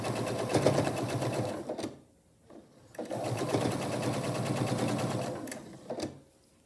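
Sewing machine stitching quarter-inch seams on double nine-patch quilt block pieces, a steady close mechanical whir in two long runs with a brief pause between them.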